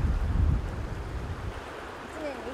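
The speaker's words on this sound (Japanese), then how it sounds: "風が邪魔やね。" Wind gusts over the Ibo River in Hyogo during ayu fishing, a steady low rumble that buffets hardest in the first half second and then settles into a softer breathy roar.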